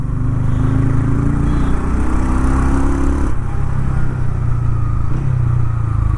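A TVS Ronin Agonda Edition motorcycle climbs an inclined road, its engine holding a steady, loud, close drone that shifts in pitch midway as the throttle opens, running smoothly without knocking.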